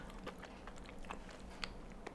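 Soft crunching bites and chewing of banana pudding layered with vanilla wafers and a crunchy topping, close and quiet, with a few sharper crisp snaps against faint background noise.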